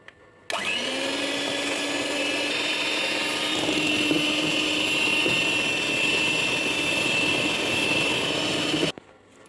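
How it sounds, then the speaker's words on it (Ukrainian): An electric hand mixer whips three eggs with sugar, a pinch of salt, into a fluffy foam for a charlotte pie. It starts abruptly with a steady, loud whining drone that holds for about eight seconds, then cuts off. "беремо міксер і збиваємо до пишної піни"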